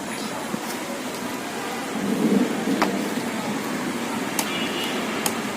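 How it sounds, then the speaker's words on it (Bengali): Steady, dense rain hiss fills the scene, with a few sharp ticks and a brief low rumble partway through. "চলো বৃষ্টি বেশি পড়ছে চলো চলে যাবো বাবা বৃষ্টি বেশি পড়ছে"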